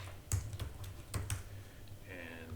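Keystrokes on a computer keyboard come in a quick, uneven burst of close, crisp clicks, pausing briefly before a few more taps.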